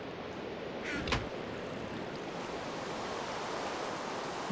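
Water while swimming in the Minecraft video game: a steady, full rushing wash of surf-like noise runs throughout, with a couple of faint splashy accents and no talking.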